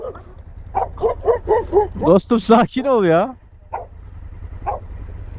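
Dogs near a beach in Şile, Turkey bark and yip in a quick run of sharp barks, then a longer whining howl and two more single barks, close and loud, with someone speaking briefly.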